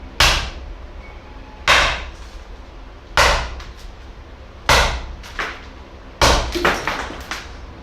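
Five heavy hammer blows from full over-the-shoulder swings, evenly spaced about one and a half seconds apart, each a loud sharp crack with a short ringing decay and a faint rebound tap.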